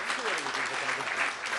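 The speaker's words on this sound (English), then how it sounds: "let's give these guys a round of applause" Dense audience applause for startup founders after their pitches at an innovation day event, loud and continuous throughout the short stretch.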